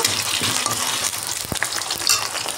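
Potato pieces hissing and sizzling as they are stirred in hot oil spiced with panch phoron and bay leaf, a steady close crackle with occasional scrapes and knocks of the spoon.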